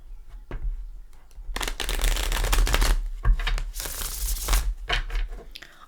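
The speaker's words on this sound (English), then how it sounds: "let's give it another shuffle" Tarot cards being shuffled close up: bursts of crisp riffling and flicking interrupted by short pauses, with soft handling taps between them.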